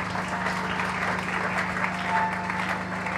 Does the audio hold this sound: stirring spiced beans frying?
no